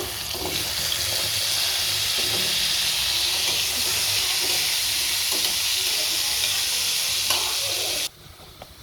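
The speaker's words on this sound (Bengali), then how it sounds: "আর এই যে আলু কিউব করে কেটে নিয়েছি, সাথে একটু লবণ আর হলুদ দিয়ে মেখেছি, এটা বেশ ভাজ দেব।" Cubed potatoes, salted and turmeric-coated, fry in soybean oil in a wok with a steady, close, loud sizzle and occasional stirring scrapes, cutting off abruptly near the end.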